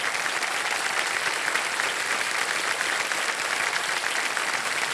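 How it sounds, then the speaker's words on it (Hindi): Studio audience on a televised quiz show claps for a contestant, a dense, even wash of applause holding steady throughout without a break. "ताली बज जाए इनके लिए"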